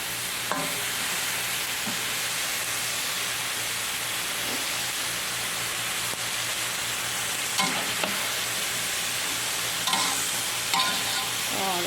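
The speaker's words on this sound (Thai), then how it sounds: "ก็ผัดจนหอมได้ที่นะคะ เห็ดหอมด้วยผัดปนไปเลยนะคะ ผัดปนไปกับผักกาดนะคะ" Shiitake mushrooms and pickled mustard greens stir-fried on a windy gas stove, a steady broadband sizzle running throughout with occasional scraping stirs and clinks of the utensil against the pan.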